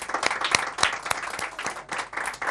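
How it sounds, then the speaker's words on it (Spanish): Studio audience applauding on an Argentine television talk show, a dense burst of clapping from many hands, loud and close, swelling and dipping briefly before continuing. "Les mandamos este aplauso desde acá."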